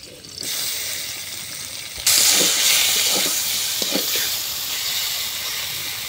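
Mrigal fish goes into hot oil in a blackened wok, and a bright sizzling hiss jumps up abruptly, then holds steady with faint crackles, close by.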